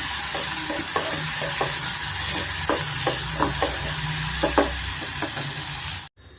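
Field beans and fenugreek leaves fry with turmeric and spices in a pan, giving a steady close sizzle broken by repeated scraping stirs of a spoon, then cutting off abruptly near the end.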